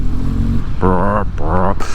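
A 2024 BMW R12 boxer twin motorcycle engine pulls hard at around 2000 RPM, giving two loud throaty surges of rumbling exhaust over a steady low engine drone, heard up close while riding.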